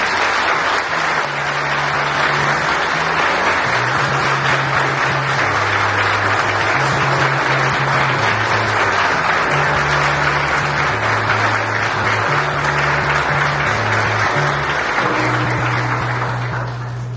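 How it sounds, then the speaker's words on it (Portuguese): A crowd at a book launch ceremony claps loudly and continuously over a low, steady musical accompaniment, the applause holding at full strength for around seventeen seconds. "Eu queria uma salva de palmas para essa mulher"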